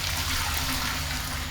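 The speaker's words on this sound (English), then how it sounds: "I strained the dye several times, partially because I keep missing the strainer as I pour it" Dye made from madder root and logwood poured through a strainer, a steady continuous splashing liquid stream heard close up with no talking.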